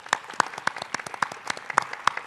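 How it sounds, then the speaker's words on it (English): A small audience at a school district board of trustees meeting claps for students, a thin scattering of distinct individual claps with a loose, uneven rhythm, fairly quiet and sparse. "So if we could just recognize them and give them a round of applause."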